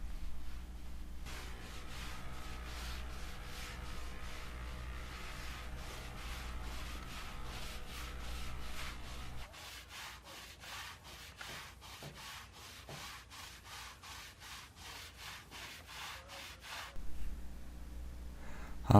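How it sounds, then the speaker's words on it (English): A stiff brush scrubs a wooden pool deck coated with TSP cleaner in steady, rhythmic strokes, with a harsher, faster patch of scrubbing midway and no voices. "Then we disperse TSP and scrub the deck."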